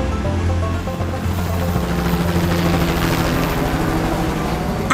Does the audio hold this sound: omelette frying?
no